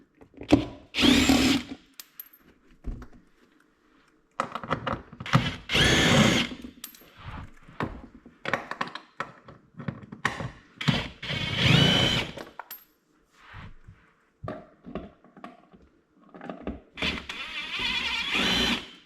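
Power tool backing out several 7mm bolts from the rear bumper cover of a Cadillac VISTIQ, heard as repeated short, loud whirring bursts with pauses between them, close up.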